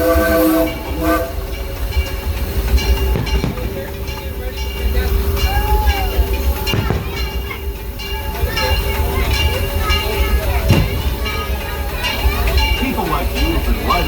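Riding aboard the Disneyland Railroad behind the steam locomotive Ernest S. Marsh #4 at night: a constant loud rumble with clanking rail joints and whistle tones, while a recorded narrator talks over it.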